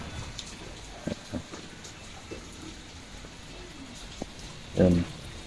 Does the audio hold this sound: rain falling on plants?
yes